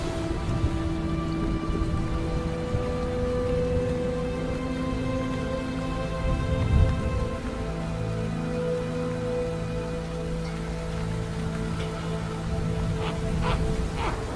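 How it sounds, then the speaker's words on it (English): Steady freezing rain patters and hisses on surfaces on open tundra, constant and fairly close, with a low rumble partway through. "freezing rain like this can be a killer"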